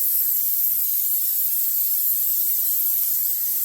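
A steady aerosol hiss of cooking spray coating a 9x13 pan sprays continuously at close range, broad and even throughout, with no voices.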